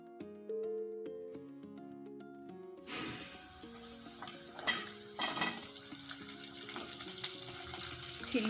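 Urad dal and cumin seeds frying in a pan for a papaya pickle, a loud continuous sizzle that begins abruptly a few seconds in and carries on with scattered crackles and stirring clatter.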